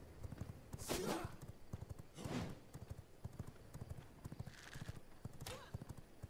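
Horse hooves clip-clopping in the video game V Rising, a quick steady trot of light rhythmic hoofbeats with a few louder whooshing swells, while someone talks over it.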